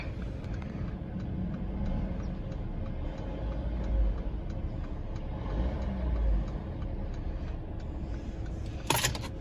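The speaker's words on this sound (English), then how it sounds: "Let's go ahead and rev it up a little bit." A 2017 Mercedes-Benz CLA250 4Matic engine idles low and steady, then swells in two moderate revs. A faint ticking runs throughout, and a sharp click sounds near the end.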